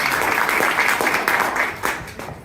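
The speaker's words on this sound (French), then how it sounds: "c'est notre première applaudissement" Audience applause at a Quebec Liberal Party colloquium, a steady wash of many hands clapping that fades slightly toward the end, with no talk over it.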